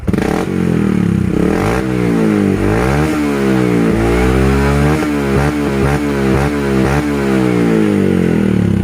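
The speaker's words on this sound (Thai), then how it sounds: "อันนี้เบิ้ลหน่อยเดียวนะเนี่ยดูบิดหน่อยเดียว ออกมาเป็นลูกเลยนะ" A 125cc motorcycle with a modified split exhaust revs loudly up close, with quick throttle blips rising and falling and a popping, crackling exhaust note between them, and no talk.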